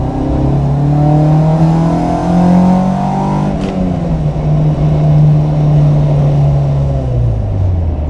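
Honda Civic EG hatchback engine revving hard and climbing steadily through the rev range into VTEC, a loud, sustained rising engine note that continues for several seconds without any voices.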